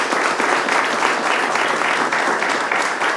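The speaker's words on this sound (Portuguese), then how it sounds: "Vamos agradecer ao nosso irmão com uma salva de palmas." A church congregation gives a sustained round of applause in thanks after a Sunday morning message, dense steady clapping filling the room for the whole stretch with no talk over it.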